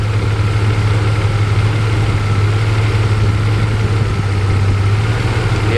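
A Mercedes SL R129 engine idles on a cold start, a loud, close, steady low hum with an even, unbroken rumble throughout and no voices.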